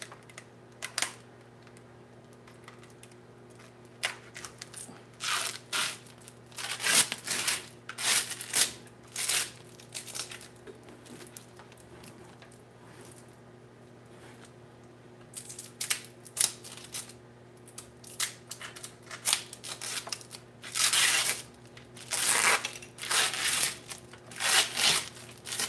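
Packing tape being peeled and torn off a cardboard shipping box of soap-making supplies, in short crackling, ripping bursts separated by quiet pauses, recorded close up indoors.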